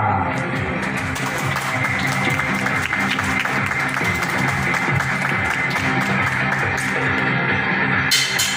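A circus audience applauds loudly and steadily in a dense, continuous wash of clapping that lasts the whole stretch and cuts off at the very end.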